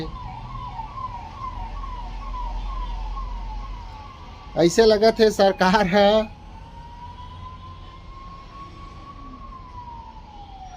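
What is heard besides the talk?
ambulance sirens passing on main road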